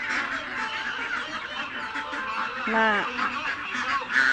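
Ducks quack and honk in a short burst near the middle, with a few more calls later over steady outdoor background noise; a brief spoken word comes just before.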